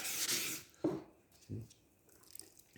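A flat sanding block rubs across primer on a Honda ST 1100 panel in a few short, separate scuffing strokes, quiet and close, with faint gaps between them.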